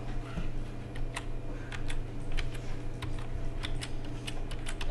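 Fingers tap out an e-mail on a computer keyboard in quick, uneven bursts of close clicks over a steady low room hum, with no one speaking.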